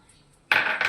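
Milk powder being stirred into milk in a pan for instant mawa modak: after a near-silent start, a spoon scrapes and clinks against the metal pan in two quick close strokes.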